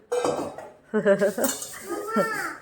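Metal pots and utensils clatter and scrape in short bursts as they are emptied for washing, close by, with a voice briefly audible.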